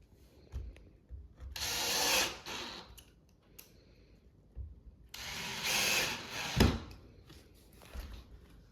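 Screws being driven into pre-drilled holes in a wooden farmhouse shoe bench, heard as two separate bursts of a power driver whirring close by with quiet handling noise in between.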